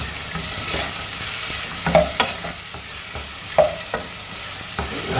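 Tomatoes, onion and garlic sautéing in a pan, a steady sizzle broken by several scraping stirs of the spoon, close up with no talking.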